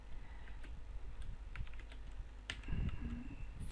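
A computer keyboard is typed on while entering CodeIgniter 3 code, giving a quick, uneven run of close, crisp key clicks over faint room noise.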